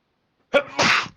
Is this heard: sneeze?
yes